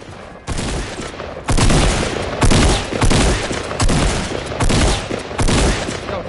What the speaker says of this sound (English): can you stop shooting in my ear